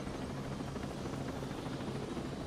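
Helicopter in the video game Ghost Recon Breakpoint, a steady droning rotor and engine rumble, continuous and fairly quiet, with no talking.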